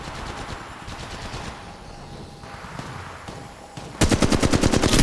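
Rapid automatic gunfire from the mobile battle royale game Apex Legends Mobile, bursts of shots over a steady game soundscape, becoming much louder and denser in a close, sustained volley near the end.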